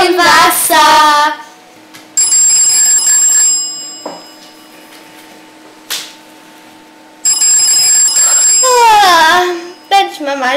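An alarm clock rings in a children's toy-figure play scene, a steady electronic tone sounding in two long bursts, with voices talking at the start and end.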